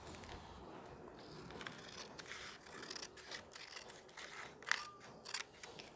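Close, quiet snips of scissors cutting through sari cloth near its border, with a few sharper cuts toward the end and no talking.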